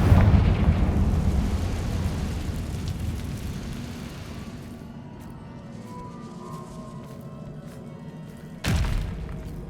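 Confringo spell blast in Hogwarts Legacy: a heavy booming explosion with a long rumbling decay, followed by quieter debris and then a second sharp impact thud near the end.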